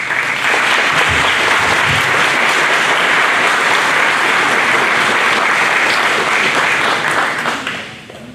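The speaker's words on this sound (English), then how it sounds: "Let's give one more round of applause." Sustained audience applause fills a contractors' town hall, a dense steady roar of many hands clapping that holds evenly before tapering off at the end.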